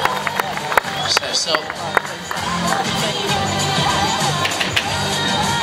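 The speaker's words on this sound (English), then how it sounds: "He needs the crowd appreciation for this one." A crowd cheers and claps steadily while a performer sets up a stunt at a live show, loud and continuous with voices calling out over the noise.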